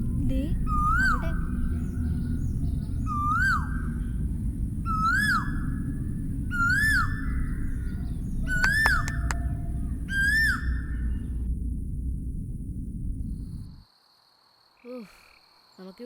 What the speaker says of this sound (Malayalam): കിളിയുടെ ശബ്ദമല്ലേ കേൾക്കുന്നത്? ദേ അവിടെ.